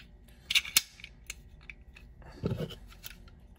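Metal guide rod and buffer seating into the frame of a Taurus TX22 pistol, a pair of sharp close clicks and snips followed by a brief scraping slide, with quiet handling noise between.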